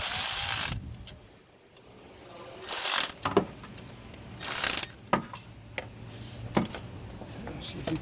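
Tightening bolts with a ratchet while replacing the water pump on a 2007–2011 Toyota Camry 2.4: bursts of rapid ratchet clicking and metallic clacks under the hood, close, with quiet gaps between them.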